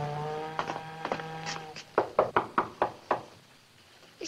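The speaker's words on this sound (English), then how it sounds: "Santa always knocks." Knocking on a door: a burst of about six firm, evenly spaced raps follows a stretch of fainter taps and a held tone, close and sharp, with no talk.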